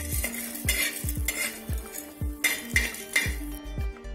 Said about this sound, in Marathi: हरभऱ्याची डाळ सुद्धा आपल्याला थोडस तेल टाकून भाजून घ्यायची आहे.